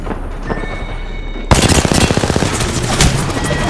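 Apex Legends gunfire erupts suddenly after a quiet stretch, then continues as a loud, dense burst of rapid automatic shots with booming impacts, close and sustained to the end.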